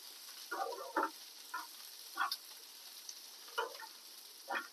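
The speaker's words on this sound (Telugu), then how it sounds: "ఇప్పుడు ఎండుమిరపకాయలు వేపుకుంటా" Dried red chillies fry in hot oil with quiet, scattered crackles and pops that come in short bursts over a near-silent background.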